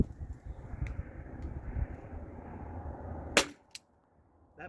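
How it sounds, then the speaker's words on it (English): A T4E HDP50 pistol being fired in an impact test gives a sharp cracking shot near the end, briefly ringing, after a stretch of rumbling noise and followed by a faint click. "I'm gonna start firing"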